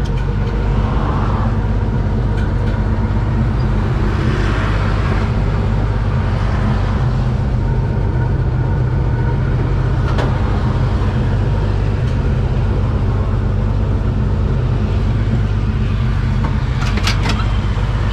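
A Holden car with a crushed, leaking radiator drives along a road, giving a steady, loud engine drone and road rumble that continues unbroken throughout.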